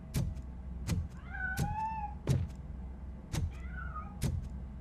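A cat meows inside the video game RoboCop Rogue City, with several drawn-out, wavering mews rising over a steady low game ambience that is broken by repeated sharp thuds.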